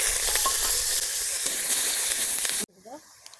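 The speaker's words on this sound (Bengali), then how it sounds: "আলুগুলো ভেজে নেব এবার।" Potatoes fry in hot oil for a village-style vegetarian dish, giving a steady, close sizzle and hiss for about two and a half seconds before it abruptly drops away to quiet kitchen sounds.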